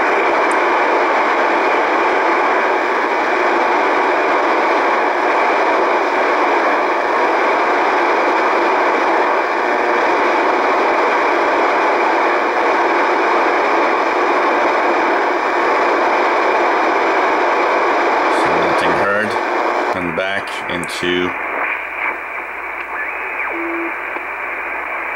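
A radio receiver scanning the 25 to 30 MHz band picks up a loud, steady hiss of FM signal noise, then breaks into choppy bursts of tuning static near the end as the level drops.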